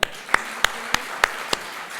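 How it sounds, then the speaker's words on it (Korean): A church congregation at a Sunday worship service claps in unison, six sharp, evenly spaced claps about a third of a second apart over a quiet room hum. "하나님께 영광의 박수"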